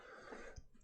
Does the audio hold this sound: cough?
yes